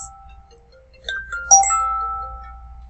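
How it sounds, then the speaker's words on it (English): A phone rings with short electronic tones, a few brief chimes rising in sequence, fairly faint against near silence. "Sorry, my phone's ringing."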